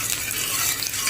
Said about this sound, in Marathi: तव्यामध्ये असं मिक्स करून घ्या.